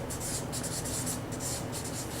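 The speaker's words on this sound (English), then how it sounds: "Let me write one more." A pen scratches steadily across paper as a gratitude list is written out by hand, with close, continuous strokes and small rhythmic pauses between words.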